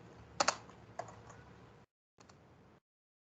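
Computer keyboard typing while entering text into CorelDraw: two short bursts of quick, light key clicks, close and fairly quiet, with a brief silent gap between them and no talking.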